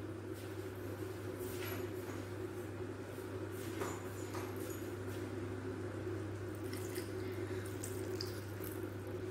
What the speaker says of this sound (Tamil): இந்த ஸ்டேஜில் நம்ம கொஞ்சம் தண்ணி விட்டுக்கலாம்.